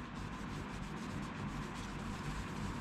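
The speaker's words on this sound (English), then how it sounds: "Sanded it, it's hand sanded." Rhythmic scraping strokes of hand sanding the metal of a WWII USMC bolo knife during restoration, a steady back-and-forth rasp, close and fairly quiet with no voices.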